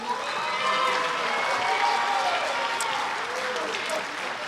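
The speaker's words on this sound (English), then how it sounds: "So give them a round of applause." An audience at a junior high and middle school spring band concert applauds steadily, a thick wash of clapping with some cheering that holds at an even level throughout.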